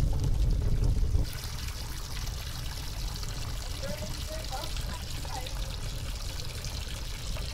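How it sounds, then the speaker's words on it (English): Shower water runs in a Roblox game, a steady hissing spray that follows a louder opening second and then continues evenly, with a voice speaking faintly over it. "I'm just gonna take a shower now."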